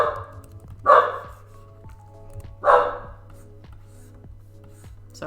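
A dog indoors in an apartment barks twice, two loud close bursts about two seconds apart over a steady low hum, with quiet gaps between.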